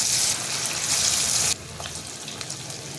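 Cauliflower with curry leaves frying in hot oil, a loud, dense sizzle that drops sharply halfway through to a quieter, steady crackle.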